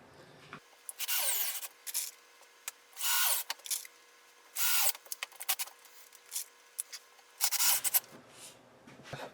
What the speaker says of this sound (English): And we'll just drive these screws on.